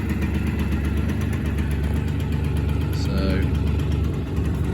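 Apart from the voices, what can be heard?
1986 Honda MT5 motorcycle engine running after cold start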